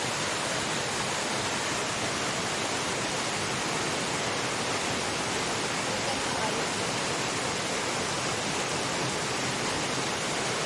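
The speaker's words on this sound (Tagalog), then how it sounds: "Palakas pa na palakas yung tubig oh." A waterfall rushes and crashes continuously, a dense, steady roar of falling water filling the whole stretch without pause.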